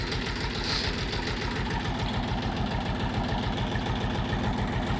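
A Kentavr 244SX tractor with a KM385VT-72S engine runs steadily nearby, a constant low rumble with a rapid mechanical chug and no pauses.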